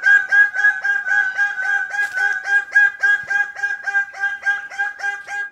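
A bird calls loudly and insistently, a rapid run of evenly spaced, harmonic clucking notes repeated for several seconds close to the microphone, with no speech over it.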